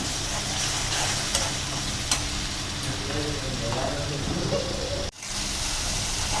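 Green chili paste and ginger garlic paste fry in hot oil, giving a steady close sizzle with occasional clinks of a spoon stirring and one brief clatter near the end.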